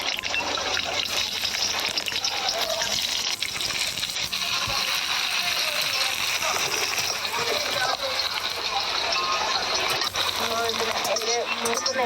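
Mustard seeds spluttering and popping in hot oil for a Kerala-style mango pickle tempering, a dense continuous crackle and sizzle filling the whole stretch at steady loudness.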